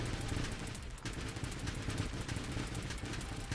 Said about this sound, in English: So yes, it's just a swarm of missiles.